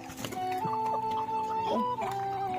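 Chickens cluck close by while pecking at scattered wheat in a village yard, with repeated short tonal clucks and calls in a steady, busy stream.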